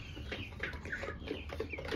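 Peruvian chicks and laying hens kept in a small cage, giving soft overlapping peeps and clucks that carry on steadily and close by, with no voices.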